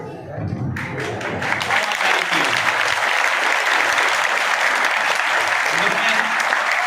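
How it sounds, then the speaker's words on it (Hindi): A crowd at a village gathering breaks into loud, sustained applause to welcome a speaker, the clapping rising quickly after a voice and holding strong and dense throughout. "जोरदार तालियों से स्वागत करें"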